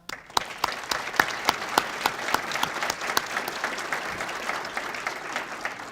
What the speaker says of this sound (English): You all need a round of applause.